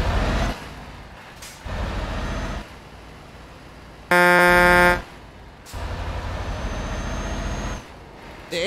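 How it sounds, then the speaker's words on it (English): A truck horn in the Euro Truck Simulator 2 driving game blares once, loud and steady for under a second, over a continuous diesel engine drone with gear-change surges. "I can use a normal horn and that sounds like the air horn"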